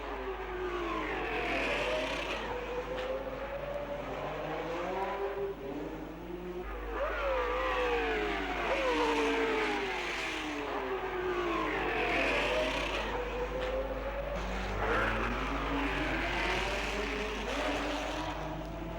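Formula One race cars roar past in waves at the Monaco Grand Prix, engines rising and falling in pitch as a gaggle of six closes on the leaders, loud and continuous with repeated pass-bys.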